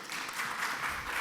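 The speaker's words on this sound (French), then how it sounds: "Oui, on peut l'applaudir" Audience at a European bioethics forum breaks into applause for a participant, a brief wash of steady clapping from a seated crowd at moderate level.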